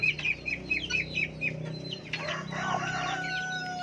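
A hen with her chicks gives a run of high, rhythmic peeping calls, followed by louder clucking and rustling close by, all outdoors.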